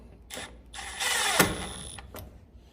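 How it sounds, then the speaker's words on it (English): A ratchet clicks in a few short bursts while clamps are tightened on electrical work for LED lights, close and quiet with a brief louder whir in the middle. "Tighten these clamps up."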